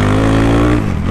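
A Honda Hornet motorcycle revs hard on the throttle in second gear, its loud, close engine roar holding steady before dropping sharply as the revs fall away near the end.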